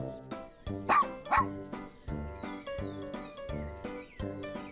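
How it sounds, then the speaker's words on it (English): A dog barks repeatedly in a children's farm-animal vocabulary lesson, a steady series of short close barks with two sharper louder yips early on, heard alone without talk over light tinkling music. "A dog."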